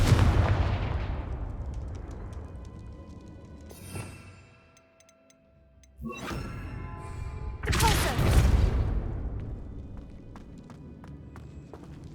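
A Confringo fire spell blasts in Hogwarts Legacy, loud booming bursts around the four-, six- and eight-second marks standing out over a dense, rumbling game soundscape.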